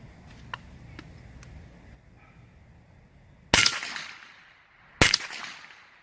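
Gunshots fired on an outdoor range, striking a steel target; two loud sharp cracks with a ringing metallic decay follow a few faint ticks and quiet background.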